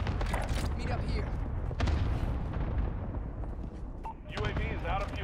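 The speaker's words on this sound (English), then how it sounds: "Cluster strike is active." Cluster airstrike explosions in the video game Warzone, set in Caldera: a dense barrage of rumbling booms and crackling blasts that roll on continuously throughout, loud and close, with a brief lull near the end before more impacts.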